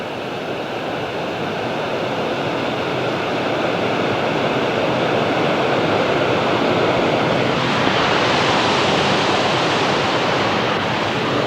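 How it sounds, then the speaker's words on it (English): Rushing water in Feinberg Park roars as a loud, steady broadband wash, growing slightly brighter and fuller toward the end, with no voices. "Nothing quite like the sound of rushing water."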